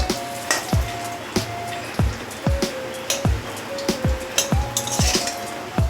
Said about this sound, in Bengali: তো আমি আরেকটু তেল দিয়ে দেবো। এগুলো লাল লাল করে ভেজে নেব।